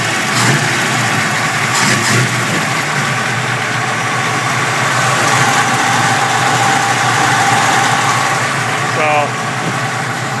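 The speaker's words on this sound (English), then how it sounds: "Brought the car to an 800 RPM idle" The engine of a 1965 Ford Mustang Fastback idles steadily at about 800 RPM, a continuous even rumble with a broad wash of mechanical noise and no noticeable revving.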